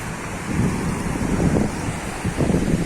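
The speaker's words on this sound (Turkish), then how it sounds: "Bu da meşhur Hazar Denizi." Wind and surf on the Caspian Sea shore, a steady rushing wash with gentle swells rising and falling, heavy wind buffeting the microphone and no voices.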